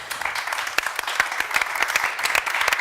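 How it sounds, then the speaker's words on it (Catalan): Dense applause from an audience at a Catalan round-table talk, steady crackling claps filling the whole stretch at a moderate distance with no voices on top. "Un aplaudiment."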